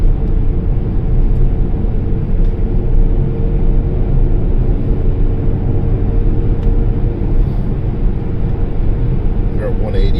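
Steady low engine rumble and road drone from inside a car with a 1.4 litre engine, driving from Dublin to Mayo, continuous and even throughout with no clear speech.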